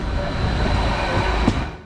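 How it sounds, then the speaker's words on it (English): A five-car East Midlands Railway Class 810 Aurora bi-mode multiple unit arrives at a station with a broad, steady roar and a faint high whine, loud and continuous throughout. "Here she comes now. This is it, a 5-car East Midlands Railway Class 810 Aurora bi-mode multiple unit."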